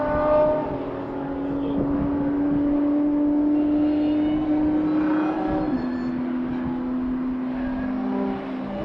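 A Charger race car laps a road course, rounding the last corner and running down the front stretch. A steady, moderately distant engine drone holds a fairly constant pitch, shifting slightly midway as the car accelerates.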